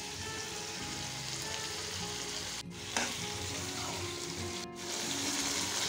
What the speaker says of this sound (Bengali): জিরে আর কাঁচা লঙ্কা পেস্টটা দিয়ে দিলাম। ভালো মতো কষিয়ে নিচ্ছি।